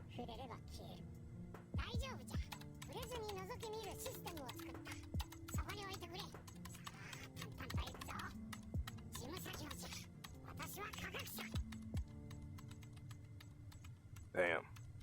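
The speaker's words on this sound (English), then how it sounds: "All you hear is just him typing on the keyboard." Someone types on a computer keyboard, producing faint, irregular clicking taps scattered through the clip and mixed with voices talking over them.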